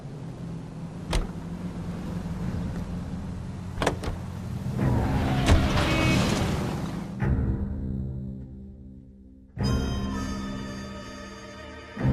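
A car driven in the video game L.A. Noire hums along with a steady engine drone, clicks and a door-like thud, then drops away briefly before the engine returns loudly near the end; no talking.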